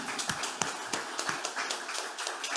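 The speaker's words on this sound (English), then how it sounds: "Can I get a round of applause for them?" A small group applauds after people are introduced at a religious community gathering, producing a brief, fairly faint scatter of individual claps with no talk over them.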